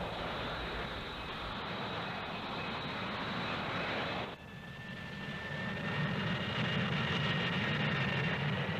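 A Harrier VTOL jet's engine roars continuously, steady and fairly loud. The whine dips briefly at mid-point, then returns with a deeper rumble and a sustained high tone.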